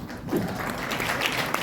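An audience applauds at a company launch event, a brief burst of clapping with a voice faintly underneath.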